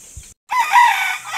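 A gamefowl rooster crows once, loud and close, a strained drawn-out call after a brief moment of silence.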